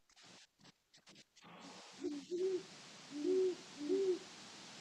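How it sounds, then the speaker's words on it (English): Two owls give soft low hoots at night, a few distinct calls spaced over several seconds, faint and distant against quiet background with some brief handling noise at the start. "I've got 2 owls."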